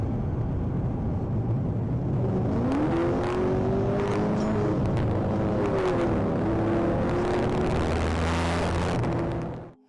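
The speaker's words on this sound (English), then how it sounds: "the driver of the Camaro downshifted and hit the gas, launching the vehicle forward with no warning" A Chevrolet Camaro downshifts and accelerates hard away from about 40 mph, its engine note climbing in pitch through a roaring rev, then holding a loud, steady drone before cutting off.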